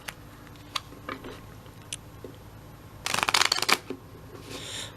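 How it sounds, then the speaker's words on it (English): Playing cards being shuffled face up and face down during a card trick, soft scattered flicks and taps followed by a dense burst of riffling, close and quiet with no talking. "all I'm going to do is shuffle them face up and face down"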